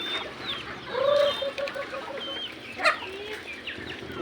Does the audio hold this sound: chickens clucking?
yes